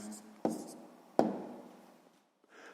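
A pen writes down an answer to a sixth-grade maths exercise, giving a few short scratchy strokes close by, each opening with a sharp tap, in a quiet room.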